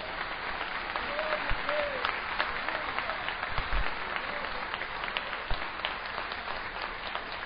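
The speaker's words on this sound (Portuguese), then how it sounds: "Pode aplaudir o Senhor que Ele merece." Congregation applauding during a family church service, a steady crowd clapping that fills the room at moderate loudness, with faint voices and a few low thumps mixed in.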